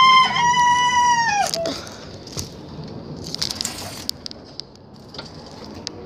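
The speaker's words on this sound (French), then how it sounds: "Donc là, c'est un coq croisé, comme vous le voyez" A crossbred rooster crows loudly up close, followed by scattered clucks and rustling from young pullets and other chickens in a coop.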